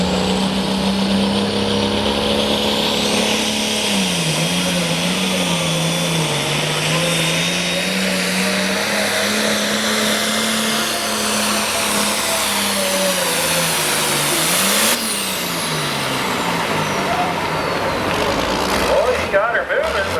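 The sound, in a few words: turbo tractor engine revving at a tractor pull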